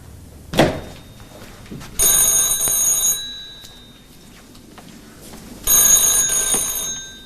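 A scrambler telephone rings in two loud electric bursts separated by a pause, with a single sharp thunk just before the first ring, all in a quiet room.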